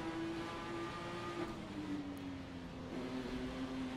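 A Ford GT GTE race car engine in a racing video game whines at a high, steady pitch that dips and climbs slightly, a continuous motor drone with no talking.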